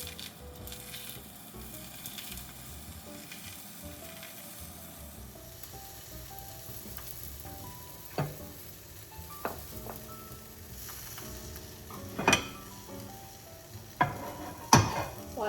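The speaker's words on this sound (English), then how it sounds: "And I'll toast the second one." A spinach quesadilla toasting in a pan with olive oil gives a soft, continuous low sizzle, later broken by a few sharp clinks and knocks of a utensil against the pan, quiet and close.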